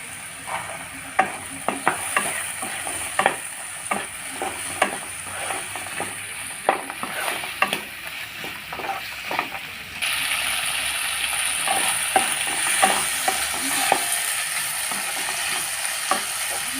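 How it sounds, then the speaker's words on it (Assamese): Chickpeas tipped into a hot pan with cumin and stirred, a steady sizzle broken by repeated scraping strokes of a spatula, the frying growing louder and more constant toward the end. "এতিয়া মই বুটটো দি দিম"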